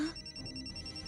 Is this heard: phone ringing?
yes